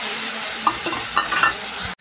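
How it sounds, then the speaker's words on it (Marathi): Spinach puree sizzles in hot oil in a pan for spinach potato gravy, a steady loud hiss with a few scraping stirs of a spoon before it cuts off abruptly. "आता मी पालकच्या प्युरी घातलेला आहे"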